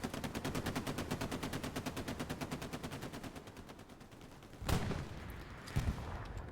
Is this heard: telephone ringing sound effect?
no